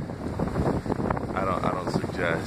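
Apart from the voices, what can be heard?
wind during a West Texas sandstorm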